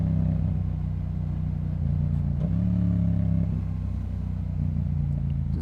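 A Yamaha MT-07 motorcycle engine hums and drones steadily while lane splitting through commuter traffic, a close, constant low rumble with a brief pitch shift midway.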